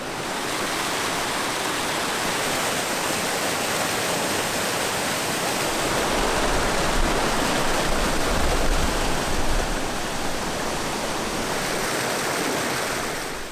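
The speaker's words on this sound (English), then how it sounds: "This unique waterfall tumbles down multiple shelves of rock to spill into a deep pool below before the creek continues its course through this desert valley." A creek waterfall tumbles down multiple rock shelves into a deep pool in a desert valley, producing a loud, steady, close rushing roar throughout with no voices.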